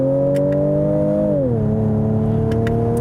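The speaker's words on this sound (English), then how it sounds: "And it does rev match on your downshifts" Ford Edge ST engine holds a steady rev, then drops in pitch as it blips and settles on a downshift, a smooth mechanical hum heard from the cabin without talk.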